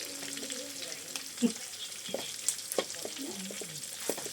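Garlic and fatty pork belly frying in oil in a home kitchen, a continuous crackling sizzle with a few utensil knocks, while faint voices murmur in the background.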